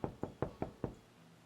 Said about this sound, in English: I think there's a knock at the door.